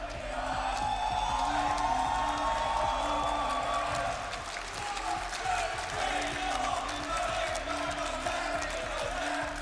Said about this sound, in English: I could let this crowd make some noise right now